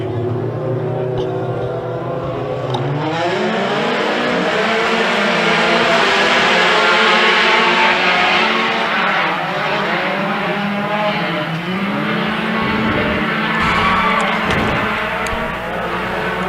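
A pack of open-wheel Pro Buggy off-road race cars roars off the start at a short course fairgrounds track, with loud layered engines revving and climbing together and tires squealing over the sustained din.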